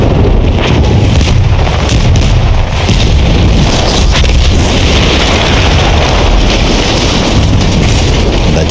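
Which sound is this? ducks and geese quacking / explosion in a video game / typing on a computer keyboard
explosion in a video game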